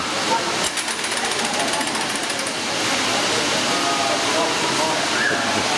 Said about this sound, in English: Now taking the thread and winding it onto bobbins